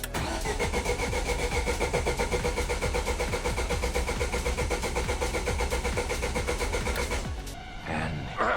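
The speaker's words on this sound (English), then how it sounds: "I'm gonna hit it and it should just start" A Ford Focus RS with an engine fault is cranked in a long, rhythmic, loud starter whirr lasting about seven seconds before it cuts off.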